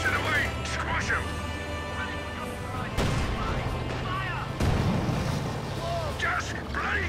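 Gunfire and artillery crack around an armored tank in the World War II strategy game Company of Heroes 2, with sharp bursts over a steady engine rumble and a shouting voice.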